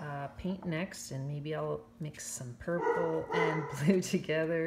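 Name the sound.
dog barking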